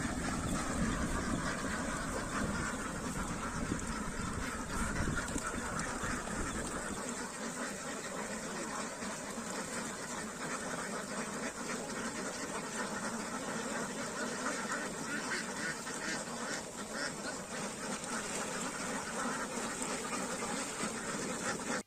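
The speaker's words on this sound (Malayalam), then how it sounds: "ഓരോ കൂട്ടങ്ങളിലും 1000 മുതൽ 4000 വരെ താറാവുകളാണുള്ളത്." A huge flock of ducks, thousands of birds herded across paddy fields, quacks in a dense, unbroken chorus. The sound is loud, steady and continuous throughout.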